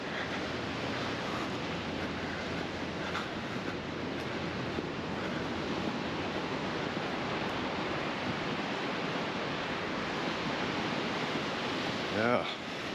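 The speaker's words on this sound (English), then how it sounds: "We're going to take a walk through to Bikini Beach and have a look at the waves." Ocean waves and surf at Bikini Beach, Gordons Bay, on a summer morning: a continuous broad roar of breaking water mixed with wind buffeting the microphone, steady and enveloping for the whole stretch.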